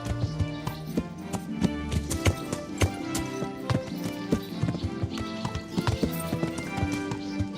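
Horses at the stables in the video game Kingdom Come clop steadily on hard ground, hooves beating a busy, continuous rhythm close by with a faint whinny, everything mixed under a dense layer of game sound.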